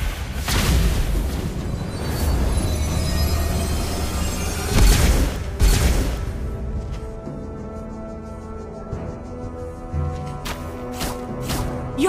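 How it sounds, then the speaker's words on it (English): A turret blows up in Mobile Legends with heavy booming blasts, loud and close. The booms come in a dense burst early on, followed by scattered pops and softer game effects. "Your team destroyed a turret!"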